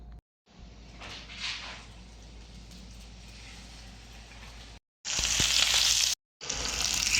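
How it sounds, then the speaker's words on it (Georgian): Pork steak frying in a hot pan with a continuous moderate sizzle that suddenly swells into a much louder, brighter spatter near the end, with a short gap of silence in between. "შემდეგ ეს უნდა დავდოთ გაცხელებულ ტაფაზე."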